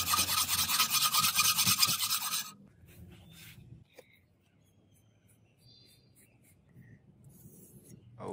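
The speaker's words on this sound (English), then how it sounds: "A lot of file sanding." A hand file rasps against a steel katana blade forged from rusted chain, with loud rapid back-and-forth strokes for about two seconds, then much quieter scraping and faint handling sounds.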